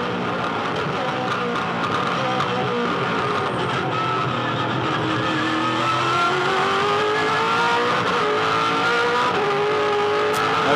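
A V8 Supercar race car engine in a 2007 Tasmania race screams close and loud, rising in pitch through the revs before short-shifting up into the next gear, with no talk over it.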